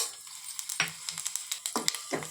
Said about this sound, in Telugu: ఇప్పుడు ఆయిల్ హీట్ ఎక్కినాక తాలింపు దినుసులు వేసుకోవాలి